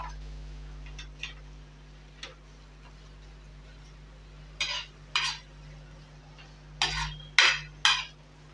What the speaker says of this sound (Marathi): आता ही आपण मॅशरनी पावभाजी मॅश करून घ्यायची आहे